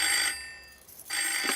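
A telephone bell rings loudly and close in two bursts with a brief pause between them, with no voices over it.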